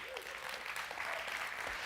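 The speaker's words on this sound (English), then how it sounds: "Give yourselves a great big hand." A church congregation applauding, a soft, dense patter of clapping that carries on steadily, heard from a distance at low volume, with faint voices mixed in.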